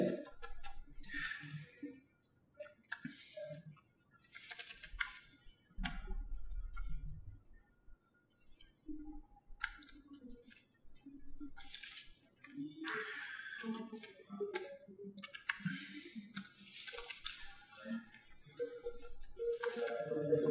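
Someone types HTML code on a computer keyboard in bursts of fast, close key clatter, separated by short pauses.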